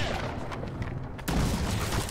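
Ship cannon fire in the naval battle game Blackwake booms out in a dense, rumbling volley, with a sharp, louder blast arriving midway through a chaotic wash of noise.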